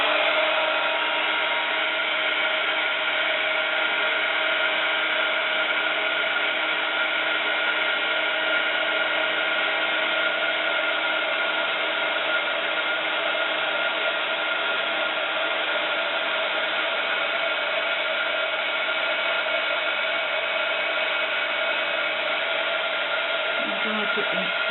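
A hair dryer drying paint on a wooden craft plaque, a continuous close airy roar with steady tonal hum, holding at the same level for the whole stretch with no pauses or talking.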